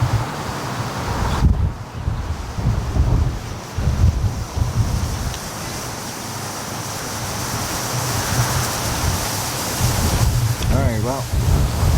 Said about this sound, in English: It's just too windy for me to be up in the tree here tonight